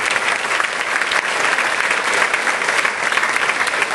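An audience at a CAUSE event applauds a veteran filmmaker, a dense, steady wash of clapping that holds at full loudness throughout, with no voices breaking through.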